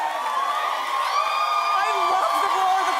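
Studio audience at a daytime talk show roaring and cheering continuously, with whoops and high shouts rising over a dense, loud, sustained wall of crowd noise.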